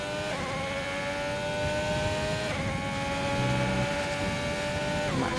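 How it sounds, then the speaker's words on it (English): A race car engine in a racing video game whines at high revs, dropping sharply in pitch on each downshift as the revs are matched, with three distinct gear changes in a steady electronic-sounding drone. "Matching those revs."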